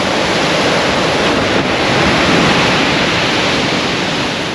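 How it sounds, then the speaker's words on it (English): Huge sea waves, some eight or nine feet high, crash onto the Holderness Coast at Aldborough, UK. The surf makes a loud, continuous roar with steady broadband wash throughout, heard alone without voices. "you can see there's huge waves still coming in"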